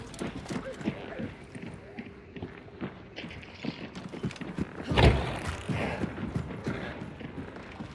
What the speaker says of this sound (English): I can hear like three pair of footsteps